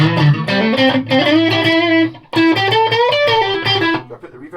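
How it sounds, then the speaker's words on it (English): An electric guitar played through a Victory Sheriff amp with distortion, a loud, sustained overdriven tone with held notes and short phrases, alone and close. "there's lots of room for different distortion sounds in there because the knob's so big"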